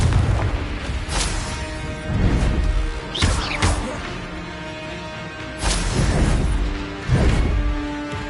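Blasting spells in Hogwarts Legacy, including the Bombarda explosion spell, go off as a string of sharp booming bursts with crashing debris, several impacts spread across the stretch over a steady game backdrop.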